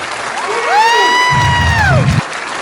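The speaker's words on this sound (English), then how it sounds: "Big round of applause. Come on, make some noise louder than that for the dancers." A live audience at a performing arts center cheers and applauds for dancers, a loud crowd swell of clapping and whoops under a long sung or shouted tone.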